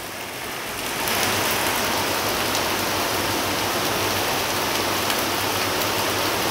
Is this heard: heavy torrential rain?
yes